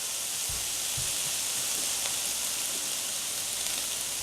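White shrimp sizzle loudly and steadily in a hot pan with lemon juice added, giving a dense, continuous hiss with a few low thumps and no talking.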